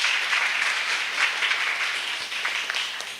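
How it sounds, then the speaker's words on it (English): An audience at a youth camp session breaks into applause, a steady wash of many hands clapping at moderate loudness that fades slightly toward the end. "Give him a proper clap, you guys."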